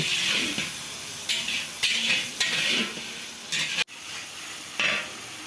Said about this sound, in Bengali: টমেটোটা ভালো করে কষিয়ে নেব যতক্ষণ না টমেটোটা গলে ওর মধ্যে দিলাম পরিমাণ মতো লবণ